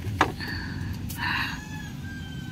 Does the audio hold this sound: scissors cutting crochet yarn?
no